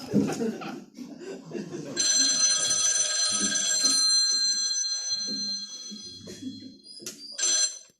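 A telephone rings on a call back, a steady electronic trill sounding for a few seconds and again briefly near the end, with someone talking before and between the rings.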